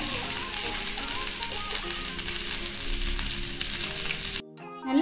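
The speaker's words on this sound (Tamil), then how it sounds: "இப்ப நம்ம தவா மேல இதை போட்டுடலாம். இதை இப்படி திருப்பி திருப்பி போடுங்க." Paneer tikka frying in oil on a tawa gives a continuous close sizzle with a few light scraping touches, cutting off abruptly near the end before a brief clatter, with no talk.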